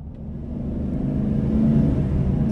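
A 2024 Explorer conversion Chevy Express high-top van with a Vortec 6.6 engine driving on the road, a steady low engine rumble and road noise that swells slightly as it gets underway, close and with no talking.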